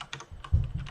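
Keys clatter in a short burst of computer-keyboard typing, a few quick soft taps followed by a denser low thump of keystrokes, close and alone with no talking.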